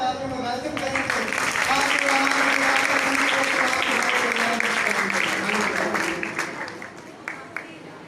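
Congregation applause fills a church Sunday service prayer meeting, a dense sustained clapping that swells and holds for several seconds before thinning out, with voices mixed into the crowd noise.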